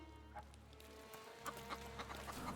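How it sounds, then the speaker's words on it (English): Chickens cluck in soft, scattered bursts in the video game The Thaumaturge, faint and steady against a low humming background, with no voices. "Stupid chickens."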